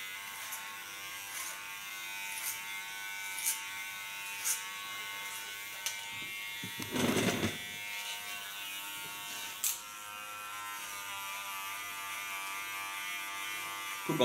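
An electric hair clipper buzzes steadily and close while cutting hair short, with a few brief clicks and a short rustling pass midway. No talk.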